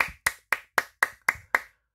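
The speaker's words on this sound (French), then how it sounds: "je vais les applaudir" Seven sharp hand claps in a steady, even rhythm, each one crisp and close, with short gaps of silence between them.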